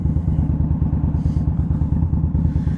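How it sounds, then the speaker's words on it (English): An Indian Scout Bobber motorcycle fitted with Vance and Hines exhaust idles close by, a loud, low, lumpy rhythmic burble of rapid pulses with no voices. "Now this specific one has Vance and Hines exhaust on it."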